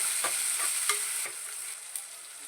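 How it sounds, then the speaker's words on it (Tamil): Onions and green chillies sizzle in hot oil for a home-style biryani, with a spoon stirring them in several scraping strokes over a steady, close frying hiss. "பச்சை மிளகாய் போட்டுக்கேன் வெங்காயம் நல்லா பொன்னிறம் வரைக்கும் நல்லா வதக்கிக்கிடுவோம்"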